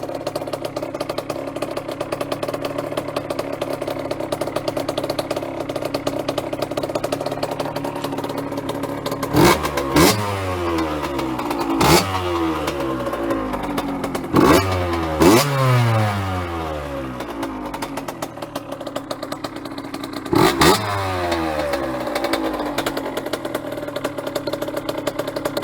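A rebuilt 1986 KTM 80MX motorcycle engine idles steadily after a cold start, then revs sharply several times in short bursts, loud and close, with no talking.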